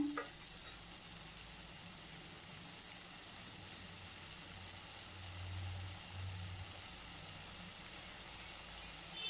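Mushroom pepper fry sizzling steadily in a pan, a constant close hiss with no talk, and a low engine-like rumble swelling near the middle.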